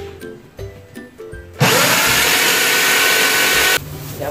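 Power drill boring into wood while installing Korean blinds, a loud steady whine starting abruptly after some quiet handling knocks, running about two seconds, then stopping.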